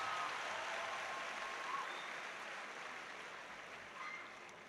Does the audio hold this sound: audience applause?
yes